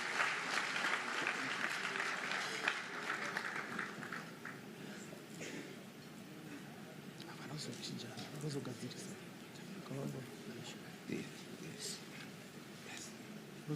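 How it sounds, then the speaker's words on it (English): A ceremony audience at a senior officials' performance contract signing bursts into applause for an official coming through. The full, loud clapping rolls for a few seconds, then thins and fades into quieter crowd murmur and background sound. "let's give him a big round of applause as he comes through"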